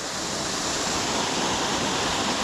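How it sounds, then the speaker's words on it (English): Davidson's Linn waterfalls roar in a steady, loud, unbroken rush of falling water, heard close with no voices. "Davidson's Linn waterfalls"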